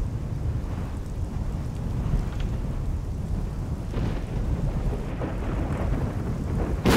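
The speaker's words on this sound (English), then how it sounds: "this is the heavy thunderstorm. We have rain" Heavy thunderstorm with rain in the racing game Assetto Corsa: dense, steady rain roar with low thunder rumbles throughout, loud and continuous, with a sharper crack near the end.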